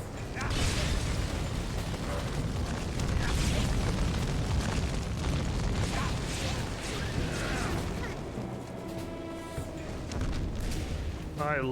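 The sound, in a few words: cannon exploding in video game Folklore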